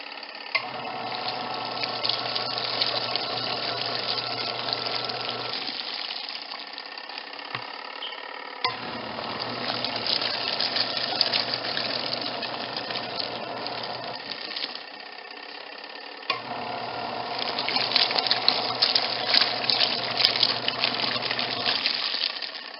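Washing machine running a wash cycle on clothes with Tide detergent: a steady motor hum with sloshing, gushing water, stopping in brief pauses as the drum changes direction, then churning again, recorded close and fairly quiet.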